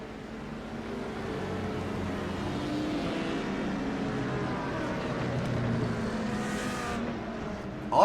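GT3 race cars rolling down the track at Le Mans in a racing game, a low, steady engine drone holding close for several seconds with a brief louder burst at the end.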